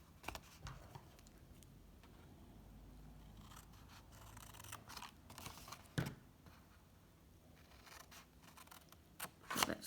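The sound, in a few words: scissors trimming patterned paper along score lines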